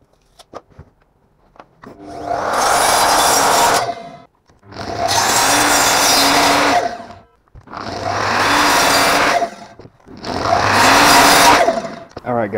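A power saw cuts boards for a wooden gate in a workshop, making four loud, separate cuts of about two to three seconds each with short quiet pauses between them.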